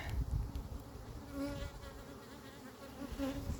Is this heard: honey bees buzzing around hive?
yes